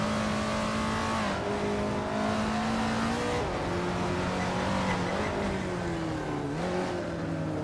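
Racing game engines drone and rev continuously, including a 1968 Dodge Dart Hemi Superstocked, with pitch sliding up and down through gear changes and the occasional tire squeal, loud and steady throughout.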